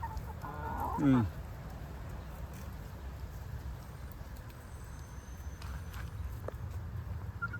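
A hen gives a brief clucking call early on at a chicken farm in Canada, then a quiet stretch of outdoor background noise with faint distant sounds.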